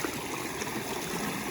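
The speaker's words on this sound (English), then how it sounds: "Has like a nice little flow over these layers of rocks" A small creek runs over layered rock ledges in salamander habitat, giving a steady, close, continuous rush and trickle with no voices.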